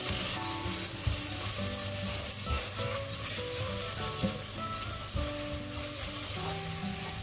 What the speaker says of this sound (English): And now I am going to add my vermicelli. Give this all a quick stir again.